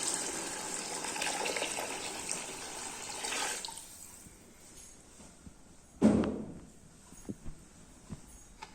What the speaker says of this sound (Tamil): இப்போ ஊற்றுற தண்ணி